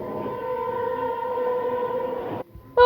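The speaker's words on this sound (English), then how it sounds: "Oh, the train's coming. It's coming." An approaching train sounds a steady, loud horn blast lasting over two seconds before it cuts off abruptly, followed by a short burst of another sound.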